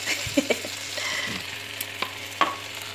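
Garlic frying in a pan, with a continuous close sizzle punctuated by a few quick stirring clicks and scrapes of a utensil.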